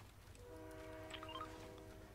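A train passes beneath the player in a Fortnite match, its horn sounding as a long steady tone over a low rolling rumble, heard at moderate distance with game sounds around it.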